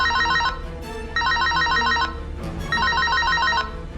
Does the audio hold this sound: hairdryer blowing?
no